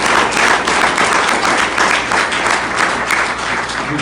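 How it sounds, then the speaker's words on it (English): Applause from a mosque gathering, dense and loud, a steady wash of many hands clapping continuously close by. "Give yourselves a round of applause."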